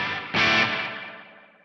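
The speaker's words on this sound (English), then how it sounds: "what was that? The drum echo." A BOSS DD-200 delay pedal set to its drum echo mode: one strummed guitar chord rings out, then trails off in a smooth, warm, echoing decay that fades away over about a second.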